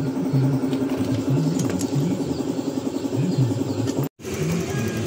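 A Honda Click 125 scooter with a coolant and overheating fault runs at idle after reassembly, a steady, close, low engine hum with a pulsing rhythm. There is a brief dropout near the end, and no one speaks.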